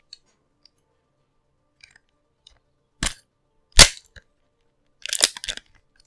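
Sharp gunshots from the Overwatch video game, a few separate cracks in quick sequence, the last as a short cluster of snaps, set against near silence.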